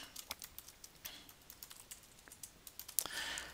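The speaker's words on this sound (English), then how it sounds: "I'm now going to type in the text that I want" Computer keyboard typing, with quick irregular key clicks close up and fairly quiet, ending in a sharper click followed by a short burst of broadband noise.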